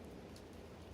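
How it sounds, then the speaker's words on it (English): Rain falls steadily outdoors, a soft, even patter of drops filling the whole moment with no voices heard. "Now we are here with the rain falling down."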